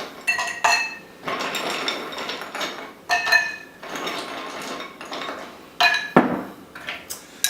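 A double bourbon cocktail stirred over ice in a glass, ice cubes clinking and rattling in uneven bursts, close and bright, with brief pauses between strokes.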